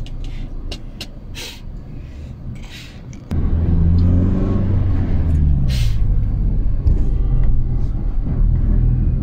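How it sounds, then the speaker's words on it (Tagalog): Cars rushing by fast on a road in Riyadh, heard from inside a vehicle: a steady low rumble of engine and tyre noise, with a passing vehicle's swell growing louder partway through. "Bilis mga sasakyan"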